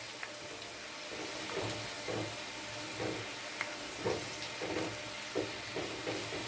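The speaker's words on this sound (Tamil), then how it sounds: "இப்போ மீனை எண்ணெயில் விட்டு பொரிச்சு எடுத்துக்கலாம்." Fish pieces deep-frying in hot oil for fish Manchurian, a faint steady sizzle with soft bubbling bursts and occasional light clatters, no voices.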